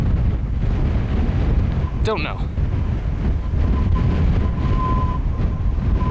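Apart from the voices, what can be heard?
strong wind in the mountains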